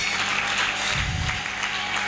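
Congregation applauding loudly at a church sermon, a dense, steady wash of clapping that fills the whole stretch without pause.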